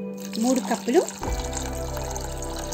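Water pours into curd being thinned into buttermilk, a steady liquid rush that starts partway through after someone speaks briefly, then continues alone.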